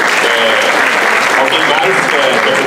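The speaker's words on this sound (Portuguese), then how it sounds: "uma salva de palmas para ela" Short burst of audience applause in a seminar room, loud close clapping from a small crowd with voices murmuring beneath it.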